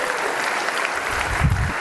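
A brief burst of dense applause from an audience at a special meeting, steady and fairly loud for under two seconds.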